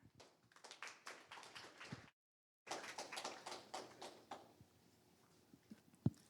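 Applause from an audience at a startup tech event, dense clapping that breaks off briefly, then resumes and gradually thins out, with a sharp louder clap near the end.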